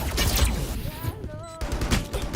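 Rapid bursts of gunfire sound during a Valorant match, with a short pause in the middle where a voice speaks, then the shooting resumes.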